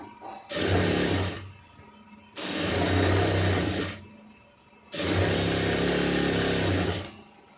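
A sewing machine stitches cigarette pants in three sustained bursts of about a second and a half each, separated by short pauses, with a steady whirring hum throughout.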